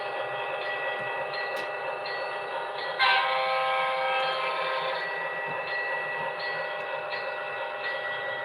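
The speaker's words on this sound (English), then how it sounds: "we'll get the proper goods train onto the layout" A model railway goods train runs along a layout, giving a steady close whirring rumble with faint tonal hum and a brief louder swell partway through, with no voices.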